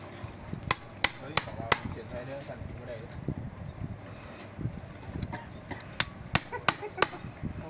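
A hammer strikes a punch during repair work on a Yamaha Touch 126 motorcycle engine while its balancer is replaced. Sharp metallic taps come in quick bursts of three or four, close by, with people talking underneath.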